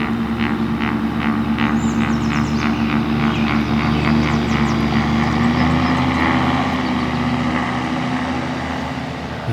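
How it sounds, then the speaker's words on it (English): A propeller aircraft, a Super Cub with an overhead engine, drones steadily and loudly as its props wind down. The out-of-sync harmonics produce a pulsing, beating tone that holds throughout and fades slightly at the end. "the out-of-sync harmonics of the props winding down begin to create that distinct"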